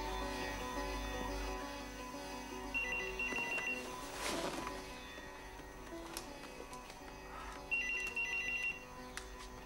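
A telephone rings in two electronic trilling bursts separated by a pause, clear and fairly near against a quiet indoor background with faint scattered clatter.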